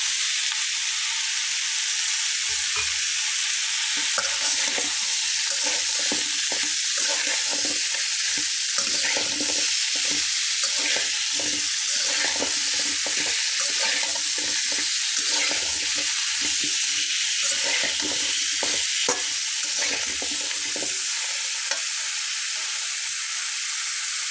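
Mixed vegetables sautéing in a hot pan for a vegetarian curry, with a loud continuous sizzle and frequent stirring scrapes throughout, no talking.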